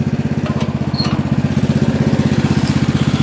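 A Yard Machines lawn mower engine runs at slow throttle, a loud, close, steady rhythmic putter with fast even pulses and no pauses.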